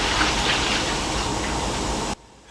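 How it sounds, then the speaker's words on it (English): A toilet flushes with a loud, steady rushing gush of water that runs for about two seconds and then cuts off abruptly, leaving near silence. "I flushed that toilet like a millisecond after I finished that last piece."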